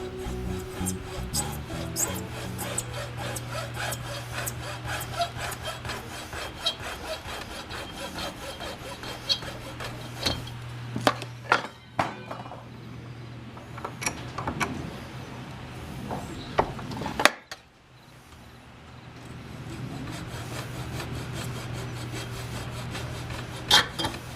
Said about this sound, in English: it cut very easily with a hacksaw